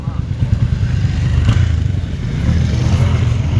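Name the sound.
motorbikes passing by on the road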